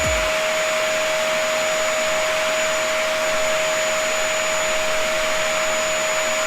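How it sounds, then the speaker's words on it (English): A vacuum cleaner runs steadily and loudly throughout, with a constant whining motor drone and a strong airflow hiss that never lets up. "It's vacuuming."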